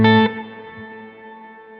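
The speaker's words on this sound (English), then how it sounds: "You can also add modulation to your convolution reverb with the mod knob. So with no modulation," A Strymon BigSky MX convolution reverb with no modulation: a short guitar chord is cut off and its reverb tail rings on smoothly, fading slowly with steady unwavering tones and no talking.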